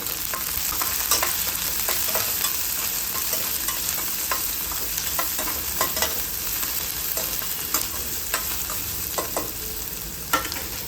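Chopped onion sautéing in a pan, a steady close sizzle with repeated light scrapes and stirring strokes throughout, no talking.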